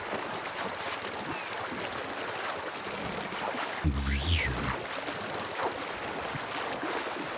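A voice mimics breaking waves, a short whooshing burst with a sweeping hiss over low rumble, set against steady harbour-like background noise.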